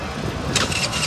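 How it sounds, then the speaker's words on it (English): A scooter's engine turns over and catches after the key is switched on and the start button pressed with the brake held, a close rumble with a brighter burst midway. "Now you're going to turn the key on, one click to the right."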